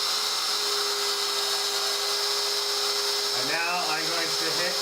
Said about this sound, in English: now we're gonna turn on the spindle.